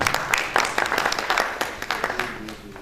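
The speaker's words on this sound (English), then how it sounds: "So, a round of applause." Audience applause at a reunion of 1962 college batchmates during a signing ceremony: scattered, uneven clapping from a small group, with voices talking over it toward the end.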